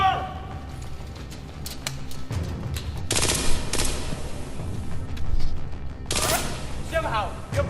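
Machine gun fire in an action movie, with rapid bursts of shots, fairly close, joined by brief noisy blasts and busy background sound.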